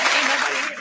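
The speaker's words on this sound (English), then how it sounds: "We're clapping." Podcast hosts clap together in a short, dense patter of applause, close and fairly loud, lasting under a second.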